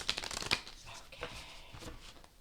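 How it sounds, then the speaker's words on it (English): A deck of tarot cards is cut and handled, giving a quick close riffle and flutter of cards at the start followed by softer shuffling and tapping. "Let's cut the cards."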